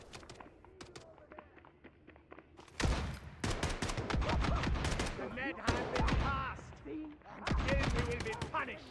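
Dense automatic gunfire and overlapping shots from a Delta Force firefight, quiet sparse pops at first, then loud sustained bursts with brief gaps and speech-like voices mixed in.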